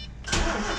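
A Chevrolet Spark, also sold as the Daewoo Matiz, starts up: a short starter crank breaks into a loud catch, then the engine settles into a steady idle, close and alone.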